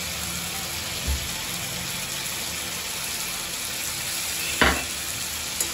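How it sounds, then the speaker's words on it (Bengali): Chicken curry with curry masala, shahi garam masala and a splash of water sautés in a pan with a steady close sizzling hiss, broken by a couple of brief stirring scrapes, with no talking. "আরও একটু ভালো করে কষিয়ে নেব"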